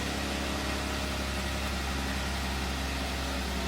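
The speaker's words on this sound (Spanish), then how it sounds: "Se escucha realmente más el sonido del motor." A car engine idles steadily from a cold start, the exhaust nearly silent so the motor's low, even hum dominates; a constant close drone with no talk.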